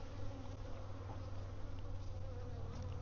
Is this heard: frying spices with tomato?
no